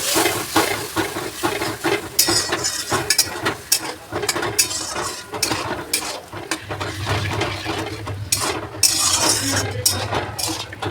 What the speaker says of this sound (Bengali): এই কাপ মেপে দু কাপ জল দিলাম এই এক কাপ আর এই দু কাপ দু কাপ জল দেবো বেশি জল দেবো একটু নাড়াচাড়া করি